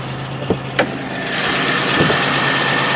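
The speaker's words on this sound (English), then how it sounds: "It's got the 3100 V6. Running strong." A 1995 Chevrolet Monte Carlo with the 3100 V6 idles after a cold start on a snowy day, a steady close engine hum with a couple of short clicks and knocks early on.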